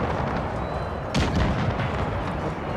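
Howitzers in the Napoleon Total War video game fire during a Carlist War battle, with a single heavy boom rising out of a dense, rumbling din of distant gunfire.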